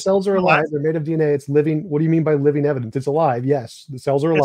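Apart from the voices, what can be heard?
No everyday noise stands out behind the speech.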